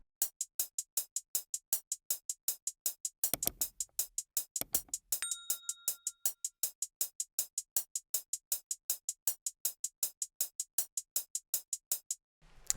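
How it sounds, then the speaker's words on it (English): Hi-hat drum sample in a trap-style beat, rapid crisp ticks in a fast even stream with brief rolls and a short pause, plus a thin ringing tone midway, close and alone. "The next sound is then the hi-hat, which sounds like this."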